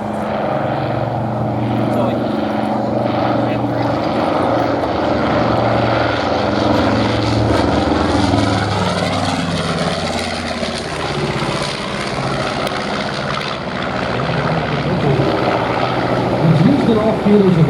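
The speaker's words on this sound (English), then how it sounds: "without seeing one of these bombers swooping in with guns ablaze" Propeller bomber flying over at an airshow in Rome, Georgia: a loud, steady engine drone that holds for many seconds and swells near the end as the plane passes close.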